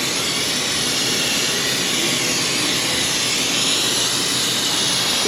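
Aerosol brake cleaner sprayed onto RTV silicone sealant on the power steering gear of a 2003 Ford Mustang GT 4.6: a steady, loud, close hiss running unbroken for about five seconds, with no talking.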